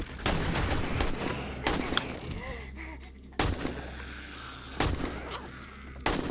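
Shotgun blasts in the zombie survival game 7 Days to Die, Alpha 18 multiplayer: four loud, sharp reports spaced about a second and a half apart, each with a short crashing decay over a busy game background.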